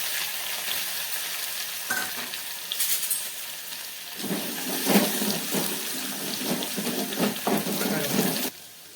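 Garlic frying in heated oil in a pan, a steady sizzle with several louder crackling bursts and stirring in the second half.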